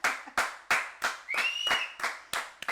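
A church congregation claps in a steady rhythm, sharp broadband hand claps about three per second, with a brief high whistle or tone sounding over the middle claps.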